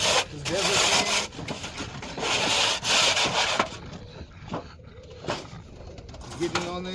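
Desert sand is rubbed against a surface in rough, repeated scraping strokes, loud at first and then fainter and more sporadic, with a voice talking and birds cooing nearby.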